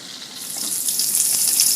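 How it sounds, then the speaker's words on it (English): Paneer pieces shallow frying in oil for palak paneer, a steady bright sizzle that swells slightly over a short stretch, close and alone with no talking. "shallow fry it until it becomes golden in color"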